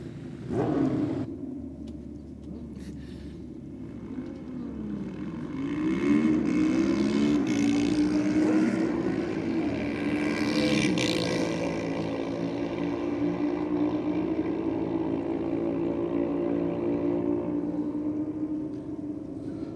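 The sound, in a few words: drag racing motorbikes running at Sydney Dragway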